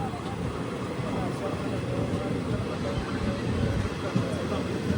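A small unreserved passenger train on the Kerala line near Changanassery rolls along steadily, its broad rumble of wheels and carriage noise continuous and fairly loud throughout, with rain falling.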